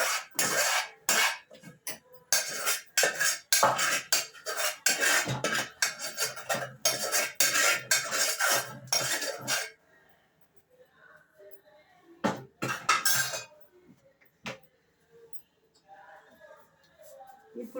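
Gongura chutney being ground with a hand grinding stone, a dense run of rough rasping and scraping strokes for about ten seconds, then quieter, with a few brief bursts of grinding later.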